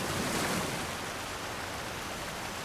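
Steady waterfall ambience from the video game Dofus 3, a dense, continuous rushing wash of falling water, fairly loud and unbroken throughout with no voices.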